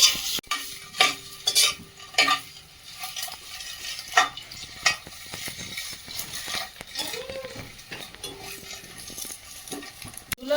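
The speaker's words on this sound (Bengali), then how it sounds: "ডিমগুলো ভাজতে দেবো" Eggs fry in oil with a pinch of turmeric in a wok, a close sizzle broken by sharp spatula scrapes and metallic clanks at an uneven pace, with no speech over it.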